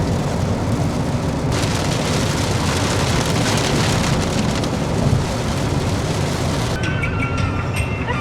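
Heavy rain pours steadily on a car during a road trip on an expressway, a loud continuous hiss and patter that fills the space without a break, with no one talking.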